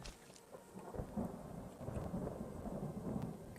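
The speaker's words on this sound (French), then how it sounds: "Oh mais il fait que de pleuvoir dans le jeu." A rainy thunderstorm in Skyrim, with steady rainfall hissing throughout and low, rolling thunder rumbling beneath it, moderately quiet and without voices.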